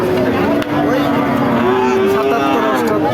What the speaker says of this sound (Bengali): এখানে একটা ডবল বডির বড় গরু